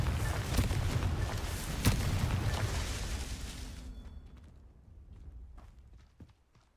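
A Confringo blasting spell explodes in Hogwarts Legacy as a loud, rumbling burst with sharp cracks near the start, then the blast fades over several seconds and leaves faint scattered thuds.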